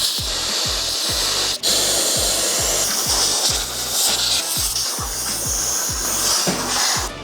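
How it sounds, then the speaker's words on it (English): A large compressed air line blasts metal swarf out, a loud continuous rushing hiss over a rhythmic low pulsing from a nearby running engine or compressor, with a brief break partway through. "we will go through now and just get the big airline and blow all this out"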